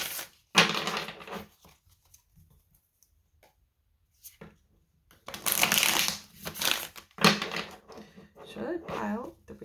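Tarot cards shuffled by hand in three bursts of crisp riffling and flicking, close and fairly loud, with quiet pauses between.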